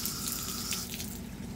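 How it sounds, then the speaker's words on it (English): Running tap water pours steadily over a tower garden part held in the stream, a close, continuous splashing rush into a sink, no talking. "I rinse it off."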